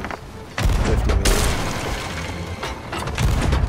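Cannons firing at a skull ship in Sea of Thieves, heavy booms and rumbling impacts in quick succession, with a faint voice underneath.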